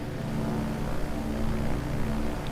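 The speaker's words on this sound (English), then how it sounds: "kind of see the aircraft that I'm flying now, the Stinger. Beautiful aircraft here, the Stinger S4." A Sting S4 ultralight with a light propeller engine, mostly carbon fiber with fixed gear, drones in steady flight in Microsoft Flight Simulator, a continuous even hum throughout and no voices.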